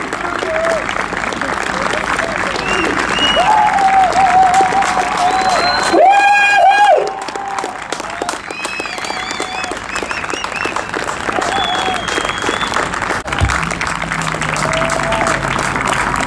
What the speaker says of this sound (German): Also einen riesen Applaus.